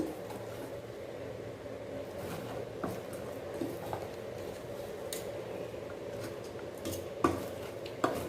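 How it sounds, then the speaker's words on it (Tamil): Thick manoharam sweet mixture stirred in a pan, heard as a steady low scraping churn with occasional small clinks of the spoon, close and continuous, with no voices. "எல்லா இடத்துலையும் படுற மாதிரி நல்லா கிளறி கொடுத்துக்கோங்க"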